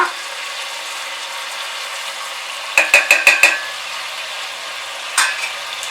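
Chicken biryani masala with salt and chilli powder gets stirred in a pan, a steady soft sizzle running throughout, broken by a quick burst of four or five scraping, clattering stirs midway and one more scrape near the end.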